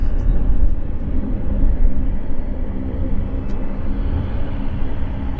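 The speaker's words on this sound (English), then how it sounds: "we've got a Q400 taxiing to us" A Q400 turboprop taxis at Vancouver Airport, a steady, fairly close low rumble and drone that holds for several seconds.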